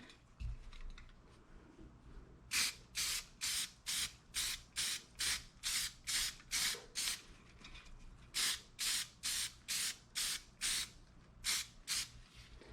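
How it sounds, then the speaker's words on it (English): Repeated short bursts from a spray paint can coating a tumbler, loud and close, hissing in quick rhythmic spurts with a brief pause midway before another run of sprays. "My spray can went a little wild"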